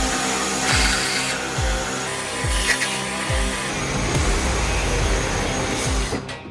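A cordless Makita 40V XGT reciprocating saw with a fresh blade cuts through wood and 12-inch nails, a loud continuous buzzing drive with rapid rhythmic strokes and grinding metal scrapes that stops abruptly at the end.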